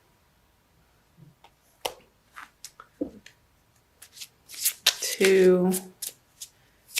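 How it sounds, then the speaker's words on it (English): Crystal Wisdom Healing Oracle card deck by Judy Hall being shuffled, with soft papery riffles and flicks that swell into a louder burst near the end, heard under brief speech. "I'm going to pull a crystal card for you from Judy Hall's deck using the Crystal Wisdom Healing Oracle."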